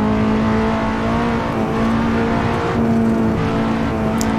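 KTM X-Bow GT4 race car engine in Assetto Corsa, a loud sustained drone with a steady engine tone, holding near and constant without talk.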